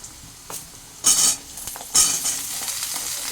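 Pumpkin pieces stir-fried with potato in a pan, giving a steady frying sizzle broken by two loud, bright bursts of scraping and sizzling as the pieces are turned, close and clear with no talking.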